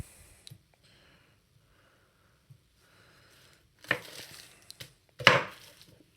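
A knife chops courgettes and mushrooms on a board, a few soft isolated cuts followed by two louder clustered strokes near the end, in an otherwise quiet kitchen.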